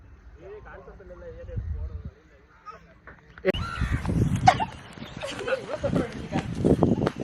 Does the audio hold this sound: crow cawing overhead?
yes